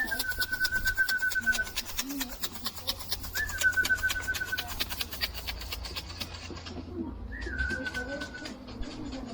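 Racing pigeons coo repeatedly during a first pigeon race, with three drawn-out calls spaced a few seconds apart over steady background noise while people talk nearby.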